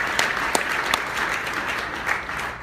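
An audience at a Rain International business talk claps steadily and loudly for a few seconds, with a few sharper individual claps standing out.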